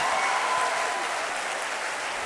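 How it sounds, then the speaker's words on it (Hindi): Students at a college induction ceremony applaud their seniors, a dense, even roar of many hands clapping at once, sustained throughout the whole moment. "आप अपने सीनियर्स के लिए एक बार तालियां खड़े होकर बजाओ"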